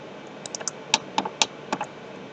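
Keyboard key presses while 3D modeling in Blender 2.90, about ten crisp, close clicks in small irregular clusters over a quiet room background.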